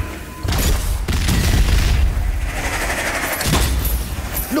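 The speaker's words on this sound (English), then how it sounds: "Grenade!" A grenade goes off in the video game Strange Brigade, giving a loud booming blast with dense rumbling debris and crackle that fills most of the clip, close and heavy.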